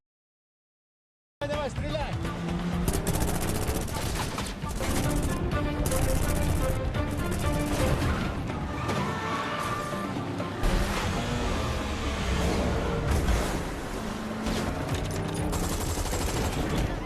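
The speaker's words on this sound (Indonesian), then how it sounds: "Di sini pertempuran adu tembak-tembakan seru pun terjadi." Bursts of rapid gunfire crackle almost nonstop over a loud, dense action soundtrack from the film The Hitman's Bodyguard, with engines and impacts mixed in.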